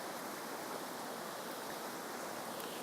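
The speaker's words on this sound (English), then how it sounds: "Look at how the water meanders down here." A park stream flows with a constant, even hiss of running water, soft and unbroken with no voices.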